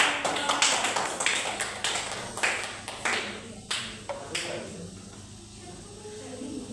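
Classroom clapping at the end of a primary-school science lesson on food chains: a short burst of separate, close claps in an irregular rhythm that thin out and stop after about four seconds, leaving a quiet room.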